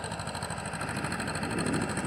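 A tractor engine runs continuously at close range on a farm, steady and throbbing with a regular chugging pulse, no voices over it.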